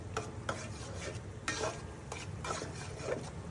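Spice masala for a hilsa fish curry is stirred and sautéed in a pan. The quiet sizzle is broken by regular scraping strokes of a spoon, roughly one every half second to second, with no speech.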